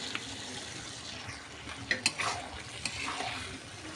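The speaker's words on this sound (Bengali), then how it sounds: "এখন দিয়ে দেব কেটে রাখা আলুগুলা এর মধ্যে।" Cut potatoes stirred into a pan of sizzling spices, a steady frying hiss with a few soft scraping and clinking knocks of the spoon against the pan.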